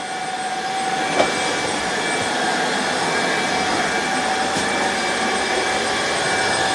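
A Tineco Floor ONE wet-dry vacuum runs steadily on a home floor, a loud constant whooshing whine with a couple of faint clicks.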